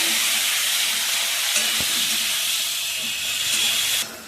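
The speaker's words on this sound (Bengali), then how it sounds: "দিয়ে দিচ্ছি টমেটো, একটা বড় সাইজের টমেটো কেটে নিয়েছিলাম।" Tomato pieces hit hot oil for sambar dal, with bay leaf, dried chilli and asafoetida already in the pan, producing a steady loud hiss and sizzle that stays constant for a few seconds before dropping off.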